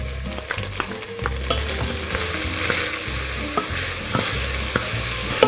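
Celery, carrot and scallion sauté in olive oil with a steady close sizzle, punctuated by regular spoon taps and scrapes as the vegetables are stirred; no speech.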